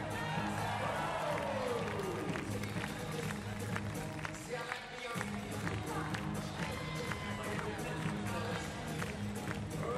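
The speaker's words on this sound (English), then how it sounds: "Everyone over there, let's see clapping." Crowd at a 2012 London Paralympics women's wheelchair basketball playoff between Mexico and Great Britain claps rhythmically and cheers throughout, a dense steady wash of hand claps under loud amplified announcer talk.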